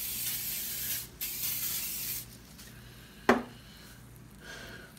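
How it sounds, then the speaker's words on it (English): A single short hiss of coconut oil cooking spray onto a Presto foldaway skillet, with a brief steady spray sound in a quiet kitchen. "I'm going to hit it with this little bit of coconut oil spray"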